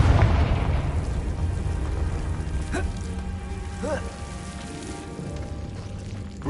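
A Confringo fire spell in Hogwarts Legacy erupts into a loud, sustained blast with a crackling, rain-like rumble that fills the whole stretch, and faint whooshing effects rise through it.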